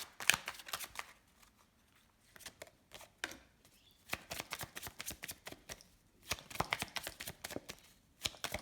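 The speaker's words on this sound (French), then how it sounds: "je vais tirer 3 cartes." Tarot cards are shuffled by hand in several rapid riffling bursts separated by short quiet gaps, crisp and close with no one speaking.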